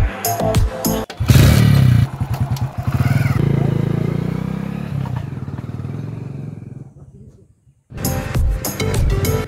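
A motorcycle in an Indian village during local election campaigning clatters, then its engine revs in a loud, rising drone that fades away, drops to near silence and picks up again with rattling, under occasional voices.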